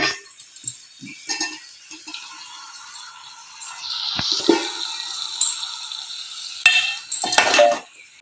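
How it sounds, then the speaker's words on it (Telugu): Metal cookware clinks and clatters in a home kitchen as a lid is set on a pot of simmering mutton dalcha, sharp close contacts scattered over a hissing, bubbling background. "మూత పెట్టేసుకోవాలి ఇప్పుడు."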